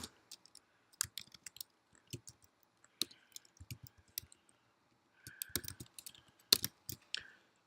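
Scattered bursts of clicking keystrokes on a computer keyboard, typed in short irregular runs with pauses between, close and fairly quiet, with no voices.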